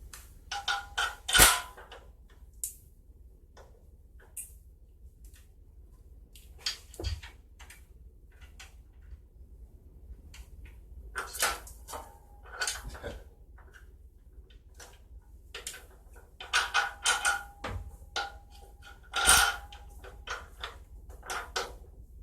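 Long bolt on a 1993 Dodge Dakota 3.9L, near the belt tensioner, being turned in with a ratchet: scattered sharp clicks and ticks in uneven bursts, fairly close, with quiet gaps between strokes and no talk.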